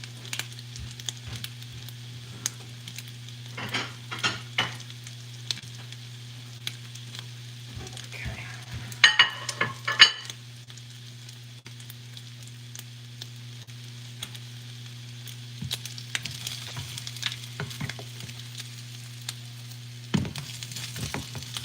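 French toast sizzles and fries quietly in a pan with a low steady hum underneath, and a few soft scrapes and clicks are heard along the way.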